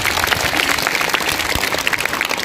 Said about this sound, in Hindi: उनके नाम पे जोरदार तालियां बजाइए